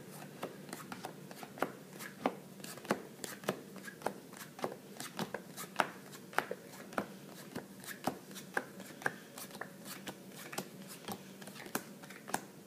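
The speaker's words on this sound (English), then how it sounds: "pass the cards out into 4 piles" Playing cards are dealt one at a time into four piles, each card landing with a crisp tap in a steady, even rhythm that continues throughout, close and fairly quiet.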